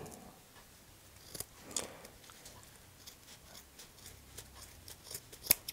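Scissors cut the foot off an old sock in a quiet room, a few crisp snips and fabric rustles spread irregularly, close up, with one sharp click near the end and no talk.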